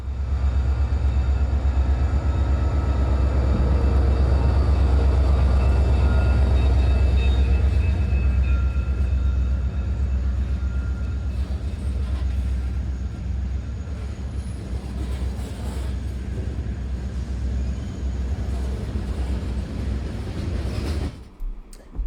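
A northbound freight train, locomotive 3110 running long hood forward, passes the North Lake Street crossing in Neenah, a loud continuous rumble and rolling clatter that slowly eases before cutting off at the end.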